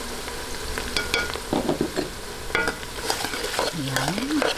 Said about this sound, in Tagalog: halo-haluin lang po natin ang tomato sauce